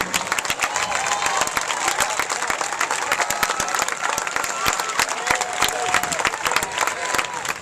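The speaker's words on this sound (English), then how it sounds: "applause for Waunakee finishing the season with a 20-4 record" Crowd at a WIAA baseball quarterfinal between Sun Prairie and Waunakee applauds the Waunakee team, sustained loud clapping mixed with some cheers and crowd noise, a voice faintly audible underneath.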